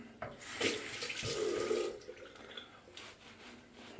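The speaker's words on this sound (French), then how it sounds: "je le mets dans le bol d'eau" A small item dropped into a bowl of water gives a splash and a short burst of sloshing, close and fairly loud, then settles into quieter trickling and faint drips.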